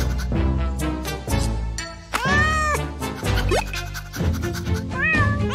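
A cartoon cat meows several times in close, clear succession, with high rising and falling cries over a busy musical background.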